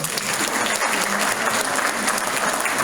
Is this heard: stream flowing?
no